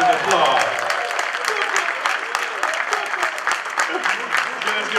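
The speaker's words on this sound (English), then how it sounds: "with a round of applause" Audience at a Mount Vernon community panel event applauds, a dense wash of clapping with some voices mixed in, steady and fairly loud throughout.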